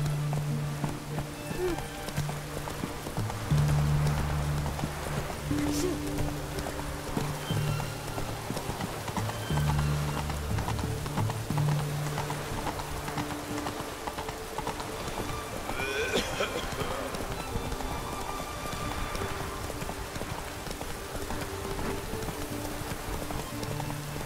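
Roach the horse gallops in The Witcher video game, with rhythmic clip-clop hoofbeats running steadily under a continuous game ambience and a low musical drone throughout.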